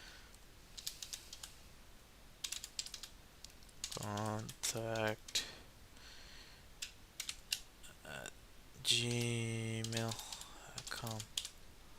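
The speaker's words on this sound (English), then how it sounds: "Let me see if I can type it here." Quick bursts of clicking keys from someone typing on a computer keyboard, close and clear, with a person talking in between the runs of keystrokes.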